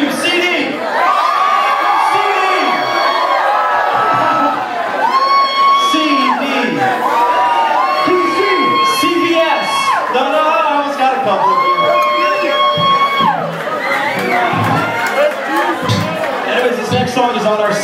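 Concert crowd at a live band show yelling and cheering loudly in repeated waves, a dense wall of mixed shouts and whoops filling the room without pause, close and loud throughout.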